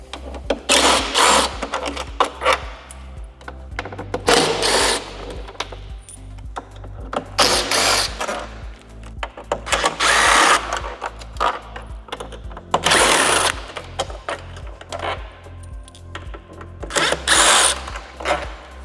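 Power screwdriver backing T25 fairing screws out of a Harley-Davidson Street Glide Ultra, several short whirring bursts separated by pauses and small clicks of screws and parts being handled, close and fairly loud.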